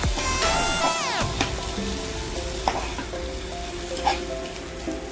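Fish pittu curry sizzles steadily in a pan as a spoon stirs it, with scraping strokes and occasional knocks against the pan, close and continuous with no talking.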